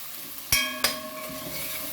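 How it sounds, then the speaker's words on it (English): Seasoning frying in butter in a pot for Jamaican steamed fish, a soft steady sizzle broken by two sharp metallic clinks of a utensil against the pot close by, with no voices. "So I'm just frying up my seasoning before I dash some water"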